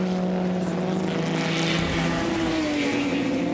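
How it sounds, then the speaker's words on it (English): A racing car's engine roars steadily close by at the Goodwood Members' Meeting, its high droning note shifting in pitch as it passes, loud and unbroken, with no voices. "And I hear a harder engine note."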